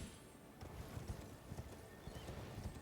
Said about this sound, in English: The battle mages have horses now.